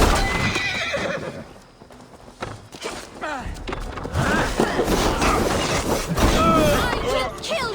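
In Assassin's Creed Valhalla, horses whinny several times amid a busy game soundscape, with hooves clopping and thuds, while voices talk over it.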